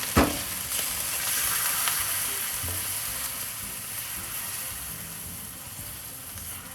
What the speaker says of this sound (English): I wanted to glaze all those beautiful bits that are simmering below